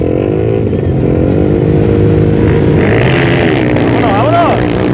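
A motorcycle engine roars loud and close as it climbs giant sand dunes near Mexicali, revving steadily with rising pitch sweeps near the end, while voices shout over it.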